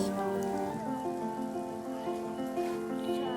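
Rain falling steadily during a hailstorm in Al Ain, a continuous wash of drops heard up close without pause, with a soft tonal hum running underneath.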